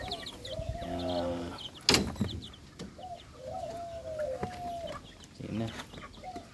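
Week-old Rhode Island Red chicks cheep in repeated thin, rising peeps, close and fairly loud, joined by a sharp knock partway through and soft background noise.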